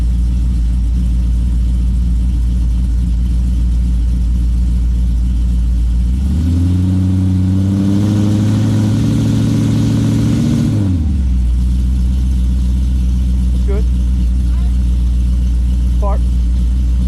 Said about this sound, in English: All right, give it a little gas.